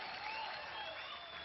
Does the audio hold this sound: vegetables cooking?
no